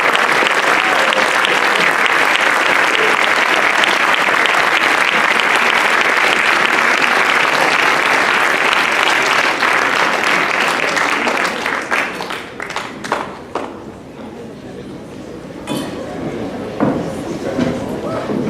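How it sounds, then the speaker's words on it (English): Loud, dense applause at a senior school sports awards evening, sustained for about twelve seconds before thinning into scattered claps and a few isolated hand claps as it dies away. "Can we give our winners one more clap and stay on the stage"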